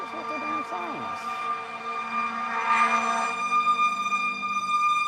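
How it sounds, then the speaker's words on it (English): Wailing sirens rise and fall continuously in Washington DC, with several tones overlapping, loud and fairly close, sounding like emergency vehicles passing nearby. "what the fuck is with the damn sirens?"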